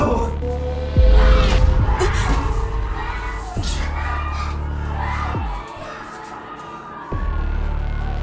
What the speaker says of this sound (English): Jason, are those screams?